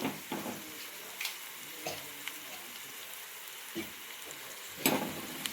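Curry leaves and spices crackle and sizzle in hot oil, a steady close frying hiss with sharper pops and occasional stirring scrapes throughout.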